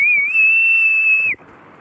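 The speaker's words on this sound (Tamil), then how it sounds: "இவ இங்க இருக்கிற உங்க காதெல்லாம் கிழிச்சிருவா போலியே விசில் அடிச்சே" A person blows a piercing, loud whistle at a Pongal festival contest. It holds one steady, shrill tone for just over a second and then cuts off abruptly, with nothing else heard.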